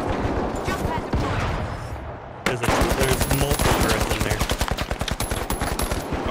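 Automated turrets firing in the game The Finals: rapid, loud bursts of gunfire with a dense machine-gun rhythm that swells after a short pause, while players talk over it.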